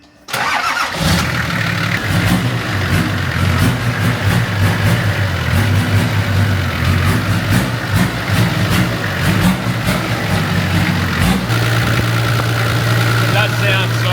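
A tuned Nissan Patrol TD42 diesel engine fitted with an F66 turbo runs steadily and loudly on a dyno, a deep continuous rumble with a rising drone near the end, while people talk over it.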